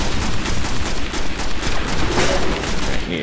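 Dense, continuous gunfire in the shooter game Destiny, loud and close, with rapid overlapping shots forming an unbroken barrage.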